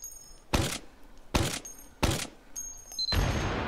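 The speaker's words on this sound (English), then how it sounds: "Pull that out, close it up, and fire these guys off." A Team Fortress 2 gun fires in a VR shooting game, three loud, punchy reports spaced under a second apart, then a fourth blast with a longer tail, each close and crisp over near silence.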